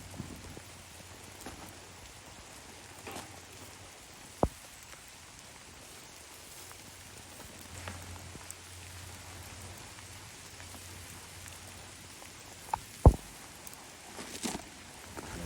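Light rain patters steadily outdoors around a campfire oven set-up, a soft continuous hiss with a few sharp knocks and taps standing out near the end.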